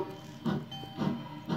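A model railroad sound decoder plays a faint steam-train chuff, with soft, regular puffs about twice a second over a low, steady hum and hiss.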